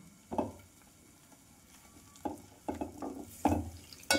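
Gram flour batter with asafoetida, turmeric, salt, coriander and water is stirred in a bowl, giving a few soft, wet, irregular scraping strokes, close and quiet.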